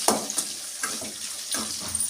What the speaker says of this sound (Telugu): ఒక బ్రింజాల్ వేస్తాను. దీన్ని కాసేపు వేగనిద్దామా